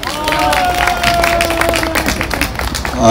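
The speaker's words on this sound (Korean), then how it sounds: "큰 박수로 환영 부탁드립니다." Crowd at a political rally applauds and cheers to welcome a speaker, steady dense clapping with babble under tonal music lines throughout, loud and sustained.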